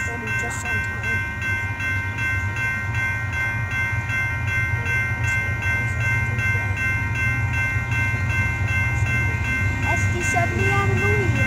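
A mixed freight train led by an SD70M locomotive rolls past, a loud steady low rumble of engine and wheels with tonal whine and squeal, building slightly as it passes nearby.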